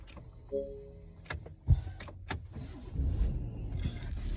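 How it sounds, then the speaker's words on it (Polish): A Porsche Cayenne with air suspension is started again: a few clicks and a sharp knock come first, then the engine rumbles up into a low, steady run, close by. "Ponownie odpalamy auto."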